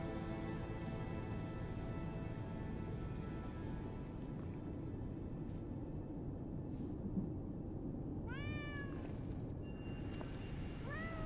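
A cat being shaken in the Lies of P video game lets out several meows in quick succession toward the end, clear above a constant bed of game ambience.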